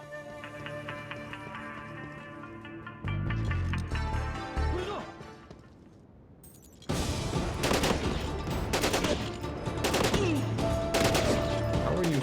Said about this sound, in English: How are you shooting me?